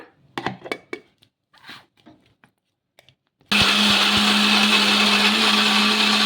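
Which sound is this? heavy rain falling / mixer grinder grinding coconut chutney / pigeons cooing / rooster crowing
mixer grinder grinding coconut chutney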